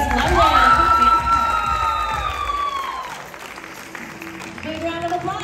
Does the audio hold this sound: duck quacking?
no